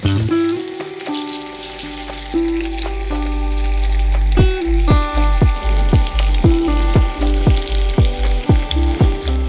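Trout fillets pan frying with garlic and green beans, a loud close sizzle with rapid rhythmic taps and scrapes against the pan in the second half.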